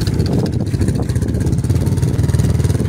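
A manual motorcycle engine runs steadily in first gear, close and loud, with a continuous low throbbing chug and mechanical clatter throughout.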